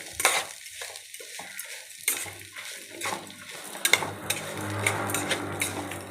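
Grated coconut and other ingredients roasting in a little oil for kaana thuvaiyal, a horse gram chutney, with scraping, stirring clinks and a soft sizzle that grows steadier toward the end, close and moderately loud.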